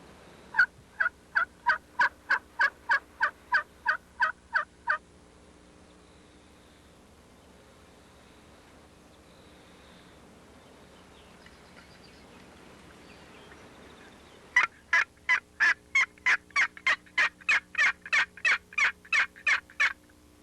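A series of rapid, evenly spaced calls rings out clearly at the start, then the air goes quiet with faint background hiss, and the same sharp repeated pattern returns near the end. The bursts fit wild turkeys or a turkey call, with no talking.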